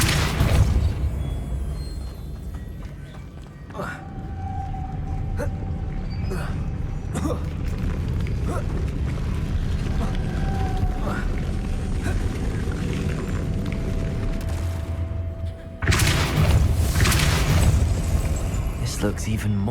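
Spell blasts from Confringo and Depulso in the video game Hogwarts Legacy, a series of booming bursts and pops over a dense game soundscape, with a loud blast near the end.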